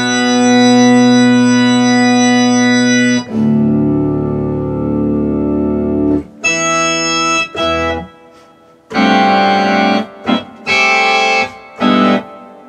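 Messiaen piano passage of loud sustained chords and octaves spelling out a phrase in his communicable language, a long ringing opening chord followed by shorter separated blocks with pauses between, close and alone.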